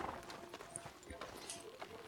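Horse hooves in Red Dead Redemption 2 clip-clop in a quick, uneven rhythm, faint and somewhat distant, under a low, busy ambient background.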